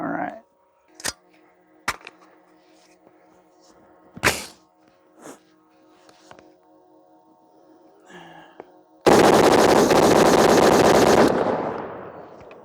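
Rifle shots from a 300 Blackout rifle, several sharp separate reports spaced a second or two apart, then a loud sustained burst of rapid fire lasting a couple of seconds before fading, heard up close outdoors.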